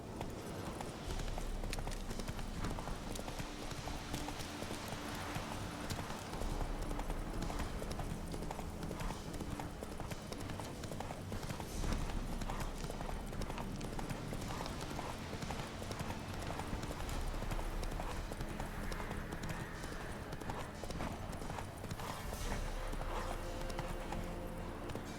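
Horse hooves galloping in The Witcher 3 game, a steady, continuous clip-clop rhythm lasting throughout amid game ambience and music, moderately loud with no voices over it.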